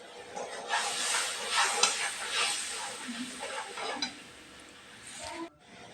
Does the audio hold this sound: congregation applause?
no